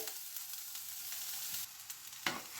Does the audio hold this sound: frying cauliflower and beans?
yes